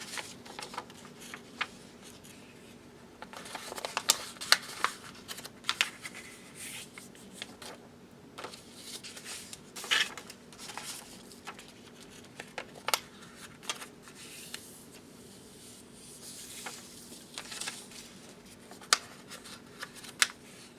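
Paper being folded and creased six times to make a 3D snowflake, quiet intermittent rustles and sharp crinkling taps scattered over a faint steady background hum, close and soft with no talk.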